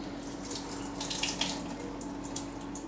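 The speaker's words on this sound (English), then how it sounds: "So we're gonna drain it all out." Water from canned meat is poured off out of a pan, giving a steady splashing trickle with brief louder surges, like a running tap into a sink. It comes from nearby and plays alone, with no one speaking.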